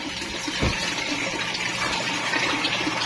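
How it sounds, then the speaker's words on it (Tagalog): Water pours steadily from a tap in a constant broadband rush, fairly close and alone, with one brief thump partway through. "Water."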